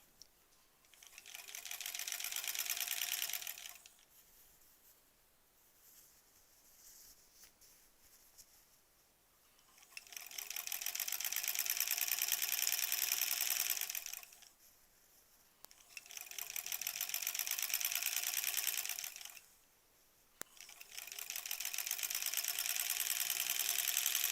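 A sewing machine stitches sashing for a granny squares quilt, running loud and fast in long steady bursts of several seconds each, with brief quiet pauses between seams and no talking.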